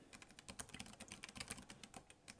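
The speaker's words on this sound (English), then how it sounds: "Even on this fancy keyboard, I still can't type good." Quick, uneven typing on a fancy computer keyboard, with a dense run of crisp key clicks and taps close to the microphone, steady throughout and without any voices.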